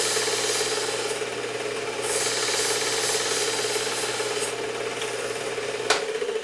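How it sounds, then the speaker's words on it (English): A knife blade ground on a belt sharpening guide attached to a WS2000 sharpener, a steady whirring belt hum with a continuous abrasive rasp and rhythmic stroke swells, close with a sharp click near the end. "do the same number of strokes so they grind a nice even bevel on each side of the knife blade"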